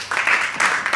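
Audience applauding a speaker at a French debate-club training session, a short burst of clapping in uneven surges over about a second.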